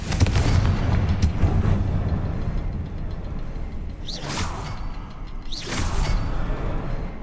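Confringo spell explosions in a Hogwarts video game, deep rumbling booms with two sharp bright bursts near the end over a loud, continuous background of game noise.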